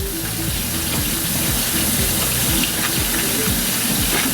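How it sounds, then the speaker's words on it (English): Lettuce rinsed under a running kitchen tap while tacos are made: a steady, close gush of water with irregular splashing, continuous and fairly loud. "Now we're just gonna wash the lettuce, you know, rinse it off."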